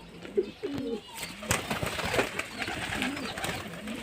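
Pigeons kept by a home fancier for flying coo softly in low, rolling phrases amid steady background noise, with a sharp knock partway through.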